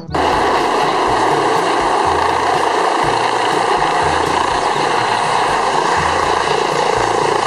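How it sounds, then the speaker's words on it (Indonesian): A helicopter roars loudly and continuously, its rotor thumping in a fast steady chop beneath a broad engine whine. "helikopter."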